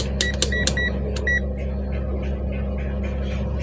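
A few short electronic beeps from a digital multimeter's continuity test in quick succession near the start, then a steady low hum continues with no more tones.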